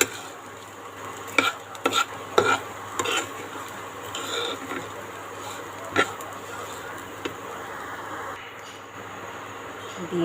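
Fried flattened rice (chire bhaja) stirred in a pan, with a run of metal spatula scrapes and clinks over a low sizzle, busy at first and then quieter and sparser, close by.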